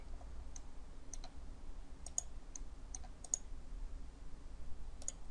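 Sparse, quiet clicks of a computer mouse during work in Autodesk CAD software, irregular single and double taps over a faint hum in a still room.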